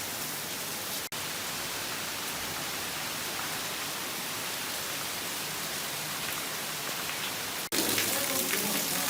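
Steady rain hissing down without a break, a dense, even wash of noise that grows a little brighter near the end.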